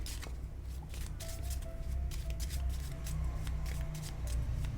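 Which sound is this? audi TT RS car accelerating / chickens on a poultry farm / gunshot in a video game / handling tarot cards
handling tarot cards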